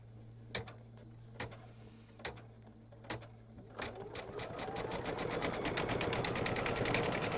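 Sewing machine stitching a quilt border, starting with a few slow, spaced needle thumps over a steady hum, then speeding into a continuous fast rattling whir that stays close and fairly loud to the end.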